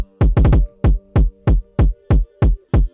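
Closed hi-hats panned hard left and right strike together with a kick drum in an FL Studio moombahton build-up. About ten sharp, punchy hits fall in a steady pattern with a few quick doubles, alone and up close.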